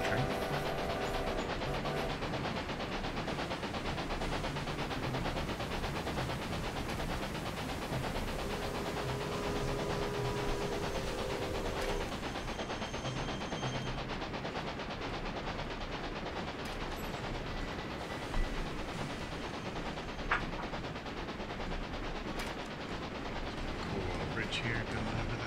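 A train rolls along a track in the railway-building video game Railway Empire, with a steady mechanical clatter and rumble running throughout, a few brief clicks and clanks near the end, and a voice speaking over it.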